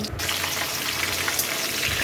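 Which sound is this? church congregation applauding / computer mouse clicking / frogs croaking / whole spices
whole spices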